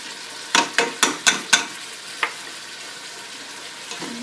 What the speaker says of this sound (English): We're going to put those quarter cup of onions in there right now.